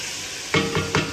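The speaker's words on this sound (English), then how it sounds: "Taking off my onions and mushrooms and herbs now." Onions, mushrooms and herbs sizzle in a pan with two quick stirring scrapes over a soft, steady frying hiss.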